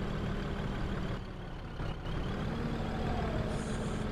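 Scania 143H truck pulling a bitrem dump trailer on a mountain road, its engine droning loud and steady throughout with a short dip in the middle and a faint high hiss near the end.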